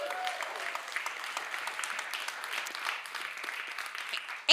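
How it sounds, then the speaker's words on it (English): Audience applause at an opening welcome session at Sundance, a steady, fairly soft wash of many hands clapping from a distance across the room, without talk. "Give them a round of applause, please."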